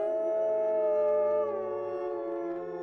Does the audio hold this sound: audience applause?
no